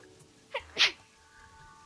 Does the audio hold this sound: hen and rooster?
no